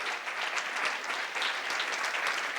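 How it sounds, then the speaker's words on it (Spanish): Steady applause from an audience at a religious conversion-and-healing testimony event, a dense even wash of many hands clapping throughout without voices. "El aplauso es para Paraguay."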